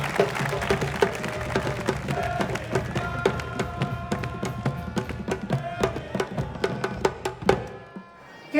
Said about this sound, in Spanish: Recibimos con un fuerte aplauso a Emilia Lozano